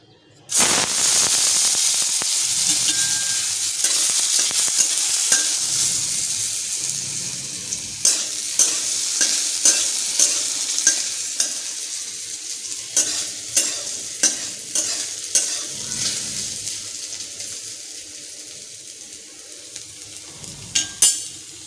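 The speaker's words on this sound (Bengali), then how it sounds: "তেল গরম হয়ে গেছে এবার আমি কেটে রাখা আলুগুলো তুলে দেবো" Cut potatoes frying in hot oil in a kadai while being stirred for rava upma, with a steady loud sizzle and repeated scraping strokes of the spoon throughout, and no talk.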